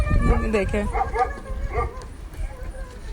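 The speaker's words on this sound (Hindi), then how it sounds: "कुत्ता भी भौंक रहा है पीछे से।" A dog barks and yips somewhere behind, with several short barks and whimpering cries in the first half, heard under and alongside people talking.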